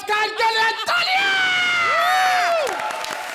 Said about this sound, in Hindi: हमारे नए जज अरबाज खान के लिए तालियां!